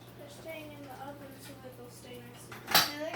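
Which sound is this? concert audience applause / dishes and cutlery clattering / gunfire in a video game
dishes and cutlery clattering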